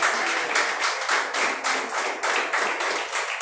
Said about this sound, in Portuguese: Você pode aplaudir Jesus nessa noite?